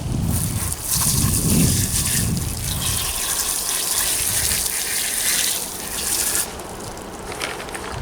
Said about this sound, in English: I'll give it a rinse off with the hose, just a little bit